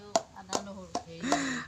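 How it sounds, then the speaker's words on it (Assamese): Ginger and garlic are pounded at home, giving four sharp, evenly spaced thuds close by with a soft tonal ring after each and a little background noise between strikes. "এয়া আদা ৰচুন খুন্দিবলৈ পাইছে দেই"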